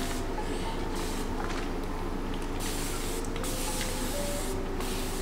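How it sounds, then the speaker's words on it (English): Repeated bursts of a spray bottle misting water onto locs, short hissing pumps in an irregular rhythm, close and steady against a continuous background noise. "it may look like I'm spraying a lot, but my hair soaks up water really fast."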